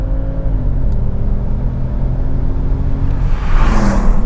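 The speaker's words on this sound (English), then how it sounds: "Still quite a bit of pitch when I hit the gas." A 444 hp Audi RS6 Avant engine revving under throttle from around 2,000 RPM, a loud steady low rumble that swells near the end as the gas is applied.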